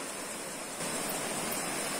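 Floodwater rushes through an overflowing creek, a dense, steady roar of churning water that fills the whole clip, close and continuous with no voices.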